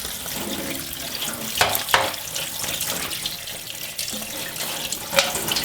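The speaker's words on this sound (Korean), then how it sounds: "이걸 차가운 물에 빨리 헹궈야 돼." Blanched chicken feet being rinsed under a running kitchen tap, with a steady, close splash of water and louder bursts as the feet are moved and rubbed under the stream.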